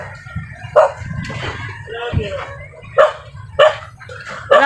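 A dog barks in sharp, separate bursts near a riverside spot where someone is picking fruit from a tree, four or five loud barks with pauses between, while a person talks in the background.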